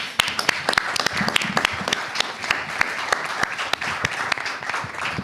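An audience at a cultural school event gives lively applause for theatre groups. Distinct sharp claps stand out against a steady background of clapping.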